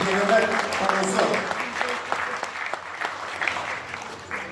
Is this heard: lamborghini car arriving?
no